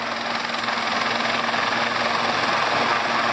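A chief minister's helicopter hovers over a helipad in Madhya Pradesh before landing, with cattle on the pad below. A loud, steady rotor and engine drone runs throughout with no break.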